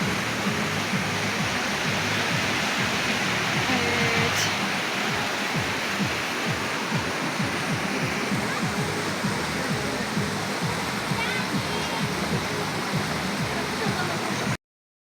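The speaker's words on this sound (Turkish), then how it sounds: "biraz daha suyunu size çekeyim dedim" Water flows steadily beside an outdoor birthday table in Turkey, a continuous broadband rush like a stream or small waterfall close by, running unbroken for the whole stretch with faint voices in the background.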